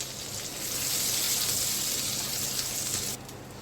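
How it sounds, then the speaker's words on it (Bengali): Dried red chillies and garlic dropped into a little hot oil, a steady bright sizzle that holds for about three seconds, then drops off abruptly to a softer crackle. "এখন আমি তেলে দিয়ে দিচ্ছি শুকনো লঙ্কা"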